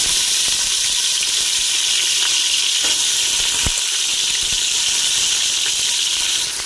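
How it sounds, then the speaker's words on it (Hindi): Bone-in chicken goes into hot oil with garlic and ginger paste for a chicken vegetable soup. A loud, steady hiss of frying is broken by a few sharp crackles and pops, with no talk. "ऑयल हमारा गरम था, साथ में हम चिकन डाल देंगे।"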